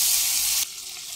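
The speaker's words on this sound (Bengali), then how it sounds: "30 থেকে 40 সেকেন্ড একটু নাড়াচাড়া করে নিয়ে হালকা ভেজে উঠিয়ে নেব।" Prawns seasoned with salt and turmeric sizzle loudly in a pan, a bright close hiss that drops abruptly to a quieter fizz partway through.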